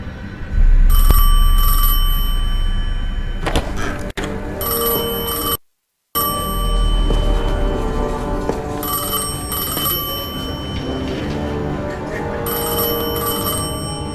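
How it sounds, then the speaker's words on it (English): Telephone ringing in the video game Destiny 2, a repeated bell-like trill in steady bursts over a low ambient drone, with a brief dropout to silence midway. "I felt the ringing more than I heard it."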